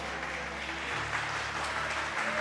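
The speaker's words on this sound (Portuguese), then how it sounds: "Pode aplaudir Jesus bem forte" Church congregation at a Friday evening service clapping loudly for Jesus, a continuous broad patter of many hands with a faint tonal hum of music beneath.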